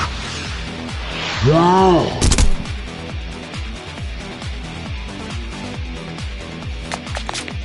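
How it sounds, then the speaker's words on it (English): Video game gunfire rattles in quick repeated shots over a steady rhythmic electronic game soundtrack, with a brief swooping tone and a sharp burst early on, then continuing pops beneath the music. "Did you just shoot at me?"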